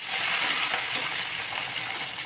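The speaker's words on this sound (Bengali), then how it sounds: "লাল লাল করে ভাজা হয়ে গেছে পেঁয়াজ আর আলু" Onions and potatoes frying in hot mustard oil with bay leaf and cumin, giving a steady, close hiss and crackle of sizzling that holds at an even level throughout, with no voices.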